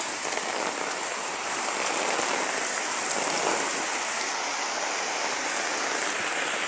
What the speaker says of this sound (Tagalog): sobrang lakas ng ulan at may kidlat at kulog po yung kasama